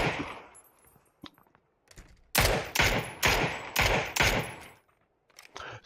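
Rapid bursts of automatic gunfire in a PUBG match, several loud, close volleys in quick succession after a quieter stretch of scattered shots.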